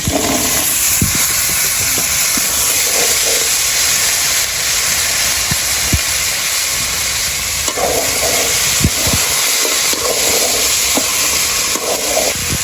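Potatoes frying in hot oil in a pan for a home-cooked curry: a loud, steady hiss and sizzle that runs throughout, with occasional soft clatters and no talking.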